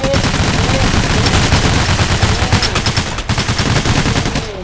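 Heavy, continuous gunfire in the heist shooter Payday The Heist, a dense barrage of overlapping rapid shots that stays loud throughout, with a faint voice underneath.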